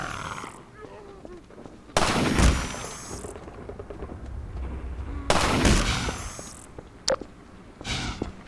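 Sniper rifle shots ring out at zombies in Half-Life 2: Episode 1, two loud broadband cracks with trailing echo separated by a few seconds, then a sharp brief crack and a smaller burst, over a low game ambience.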